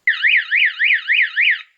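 The warning siren on an IBEX TX31 mini round baler wails in a rapid up-and-down sweep, about five loud close cycles in under two seconds, with no voices.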